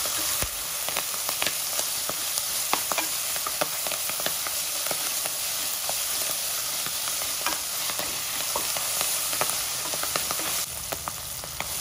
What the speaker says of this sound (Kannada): ಮೆಂತ್ಯ ಸೊಪ್ಪನ್ನ ಚೆನ್ನಾಗಿ ಎಣ್ಣೆಲಿ ಫ್ರೈ ಮಾಡ್ಕೊಳ್ಬೇಕು